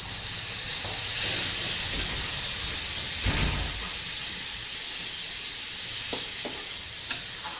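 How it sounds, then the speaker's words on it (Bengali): Water is poured into a pan of sautéed drumstick dal, giving a steady hiss and sizzle with steam. Soft stirring scrapes and a few brief clinks sound close by. "সজনে ডাঁটা ডাল কষানো হয়ে গেছে, এবার দিয়ে দেবো জল"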